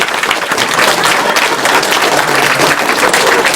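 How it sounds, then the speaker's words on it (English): Loud, dense crowd applause for the Awesome Games Done Quick 2013 speedrunners at the marathon's closing, sustained clapping filling the room for the whole stretch. "So a big round of applause to all of you."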